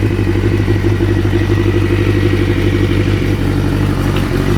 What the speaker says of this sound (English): Now let me start the bike and then I'm gonna turn it on.